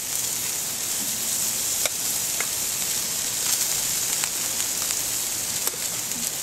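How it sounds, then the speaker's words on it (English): Small shrimp laid on a barbecue grill grate hiss in a steady, even sizzle like light rain, close by, with a few faint sharp pops and ticks and no talking. "I'm just going to put the shrimp on."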